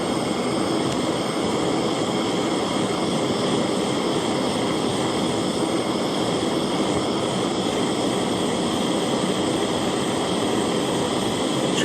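A torch heats a copper ring to melt a solder ball onto it, a loud, steady roaring hiss held close and unbroken for the whole stretch with no voices.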